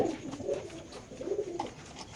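Pigeons coo at a busy pigeon market, soft repeated throaty calls close by over a low murmur of background noise.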